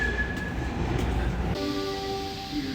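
Budapest's old M1 metro train runs with a loud steady rumble and rattle of the carriage, tonal whines shifting partway through as it moves along the underground line.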